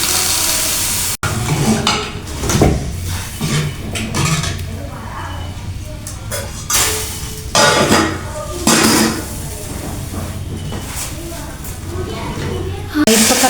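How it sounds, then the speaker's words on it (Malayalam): Rice goes into a pot of boiling water with spoon clatter, pot knocks and stirring scrapes, steady and close, while someone talks over the kitchen noise. "അപ്പോൾ അരി ഇടാൻ പോവാണേ"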